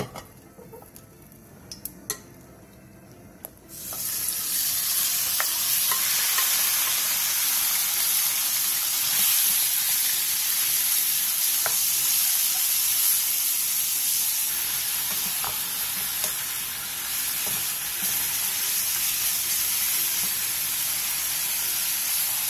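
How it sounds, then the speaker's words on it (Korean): Marinated meat stir-frying in an oiled pan over high heat gives a loud, continuous sizzle that surges in abruptly after a few quiet seconds of faint clinks and holds steady close by. "팬에 기름을 두른 뒤 재워놓은 고기를 넣고 센 불에서 볶아주세요."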